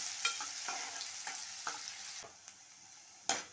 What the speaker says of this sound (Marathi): एक मोठा कांदा बारीक चिरून घालायचा आहे आणि कांदा लालसर होईपर्यंत परतत राहायचं